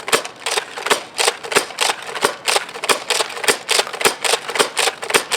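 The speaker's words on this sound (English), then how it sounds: "Try some slam fire." A Nerf Alpha Trooper blaster slam-fires from a belt-fed EIR magazine, giving a rapid, even string of loud, sharp snapping shots with plastic clacks, about three per second, close and unbroken.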